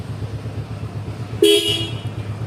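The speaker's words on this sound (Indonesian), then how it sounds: "klaksonnya kenceng ya, pakai Avanza" A single loud Toyota Avanza car horn fitted on a Honda Supra motorcycle blasts short and sharp close by, over a low idling engine rumble.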